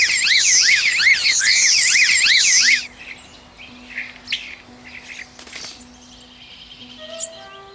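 A starling sings loudly up close, weaving rapid warbles with mimicked electronic alarm and siren tones in a rising-and-falling pattern, then drops to quieter scattered chirps and calls with a thin steady tone beneath.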